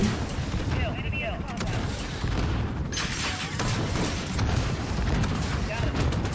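Rocket explosions boom in a Call of Duty-style team deathmatch video game, with a heavy crashing blast near the middle amid a dense, continuous rumble of gunfire and detonations.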